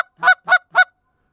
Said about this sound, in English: Oh, geese. I hear geese.